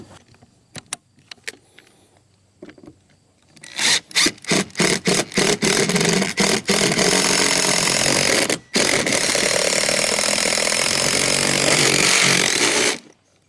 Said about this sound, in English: So I'm gonna go ahead and drill this hole and see how it works out.